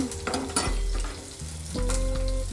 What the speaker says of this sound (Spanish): le voy a echar el rocoto, la cebolla, los ajos, el guacatay